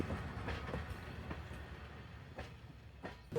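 A passenger train runs along the rails on the way to Bardhaman, its steady low rumble broken by periodic clickety-clack wheel beats as it rolls over rail joints, with no talk.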